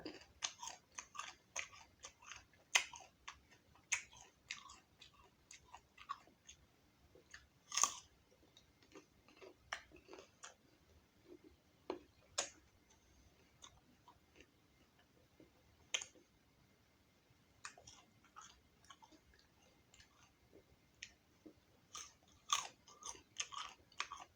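Crunchy chocolate-coated jujube fruit is chewed close up, with many crisp, irregular crunches and bites scattered across a quiet background.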